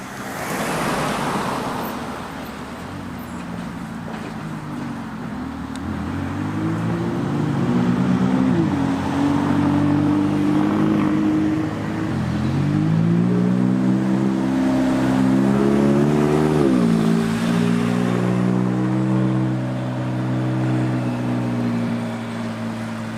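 A McLaren 540C sports car drives past with its engine rising and falling through several revs, a steady loud throb with stacked engine tones sweeping up and down, no voices over it.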